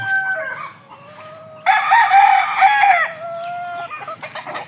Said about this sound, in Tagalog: ito ang tatlong inahin ko.